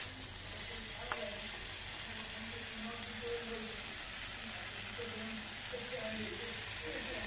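Spice paste sizzles and fries in a pan while being stirred for a papad curry, a soft steady crackle with faint scraping, quiet and close, and a voice speaks lightly over it.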